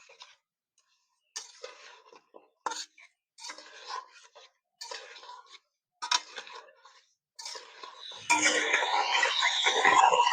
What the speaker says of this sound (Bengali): এবারে নেড়ে চেড়ে গুড়গুলো গলিয়ে নেব